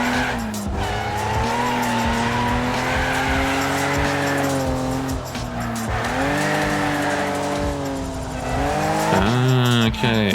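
A racing car in the video game Wreckfest roars loudly and continuously, its engine note rising and falling through gear changes as tires squeal and skid, with a sharp rev climb near the end.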